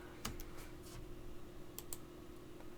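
Keys tapped on a computer keyboard while entering an IPv6 address into a router configuration: a few sparse, soft clicks over a steady low hum.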